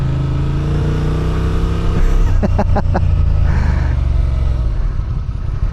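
A Honda Transalp 750 motorcycle engine hums loud and steady through a corner, with a short burst of rhythmic ticking partway through and wind noise throughout.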